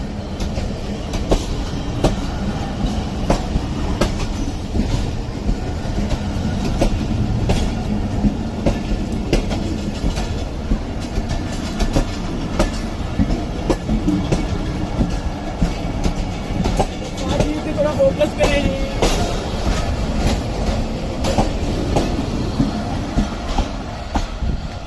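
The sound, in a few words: train departing station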